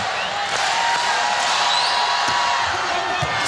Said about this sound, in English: The crowd trying to urge Hawaii on.